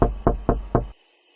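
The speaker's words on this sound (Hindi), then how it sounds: "वो जल्दी से अपने पड़ोस में गई और उसने ममता का दरवाजा खटखटाया" Knocking on a wooden door, four firm, evenly spaced thuds in quick succession, close and loud, with a steady high insect-like whine running underneath and continuing after the knocks stop.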